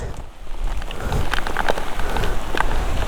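Heavy rain pours down steadily, a dense, continuous patter on surfaces that stays loud throughout, with no voices.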